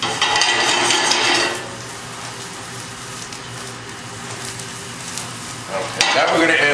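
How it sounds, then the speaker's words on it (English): Vegetables sauté on high heat in a hot cast iron pan, first with a loud bright sizzle, then settling to a quieter crackle before a burst of sizzling stirring returns near the end, with no voices. "those are gonna saute a little"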